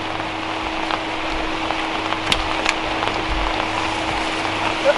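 Steady rain pours down outdoors, a dense even hiss with a few sharper drips and taps standing out, heard alone without voices.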